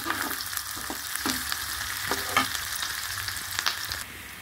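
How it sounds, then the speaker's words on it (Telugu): Onions frying in oil in a pan, a continuous close sizzle with scattered stirring scrapes and small pops, easing slightly toward the end. "చూసారు కదా, ఉల్లిపాయలన్నీ ఫ్రై అయ్యాయి."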